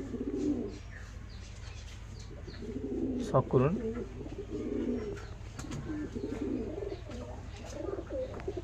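Pigeons coo in low, soft repeated phrases under a man's speech, with faint bird chatter and a constant background hum.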